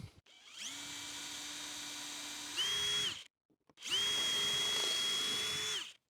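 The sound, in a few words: power drill driving a screw into pallet wood coat rack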